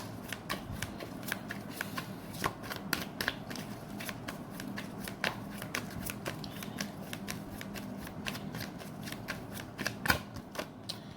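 Tarot cards shuffled by hand, producing a steady run of crisp riffling and flicking taps, close and quiet, with no one talking.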